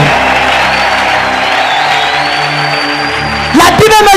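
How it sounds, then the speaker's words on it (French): Church congregation cheering and acclaiming God, a steady roar of massed voices with a sustained whistle-like tone above it, then a voice breaks in near the end. "Leta sifa na shangwe kwa wa milele."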